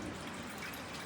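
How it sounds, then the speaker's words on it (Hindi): Water pours into a cooking pot to boil rice in a home kitchen, giving a short, steady, close splashing rush with no talk over it. "तो राइस के लिए पानी डाल दूँ?"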